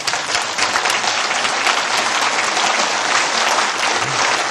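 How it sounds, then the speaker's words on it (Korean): An audience applauding at a Korean religious address, dense steady clapping from a large crowd, fairly loud and continuous throughout. "박수 한번 하실 수 있을까요?"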